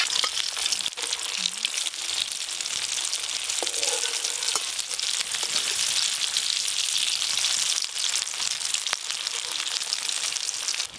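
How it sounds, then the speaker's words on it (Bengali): Barfi-shaped beetroot dhoka pieces fry in hot oil, a steady close sizzle and crackle running unbroken throughout, with an occasional soft tap or scrape of a utensil. "এদিকে তেল গরম হয়ে গেছে, এবার এই বরফি শেপে এইগুলো একটা একটা করে ভেজে নেব।"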